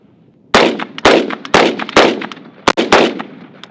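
Rifle gunshots at an outdoor shooting range, six sharp cracks fired at a steady pace roughly half a second apart, each with a short decaying echo, loud and close with no talking.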